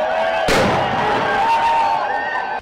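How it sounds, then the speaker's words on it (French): A loud, sharp blast cracks out at a packed stadium during a simulated terrorist attack drill, then rumbles on under a sustained roar of crowd noise and tonal whistling. "Alors que le stade est en ébullition, une explosion retentit."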